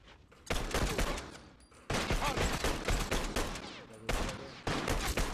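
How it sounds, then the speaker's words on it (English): Full-auto gunfire in The Last of Us multiplayer comes as three loud, sustained bursts of rapid shots, each lasting over a second, separated by brief pauses, with no voices over them. "Too many missed shots with the full auto, but one less hunter to worry about."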